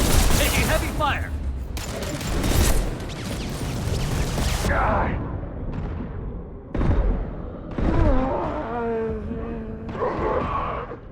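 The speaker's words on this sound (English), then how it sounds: "Taking heavy fire!" Gunfire in the video game Mass Effect Legendary Edition, dense bursts of shots and impacts in loud clustered volleys with short gaps, while voices call out over the combat.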